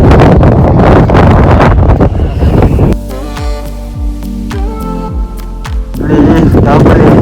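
Wind buffets the microphone in strong gusts on the dusty Brahmatal trek summit in the Himalayas, loud roaring bursts at the start and end with a calmer stretch between.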